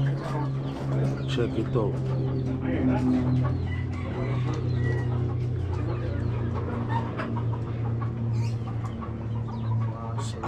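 Hens and chicks cluck steadily on a farm, with a rooster crowing now and then, while people talk over the busy, continuous poultry chatter.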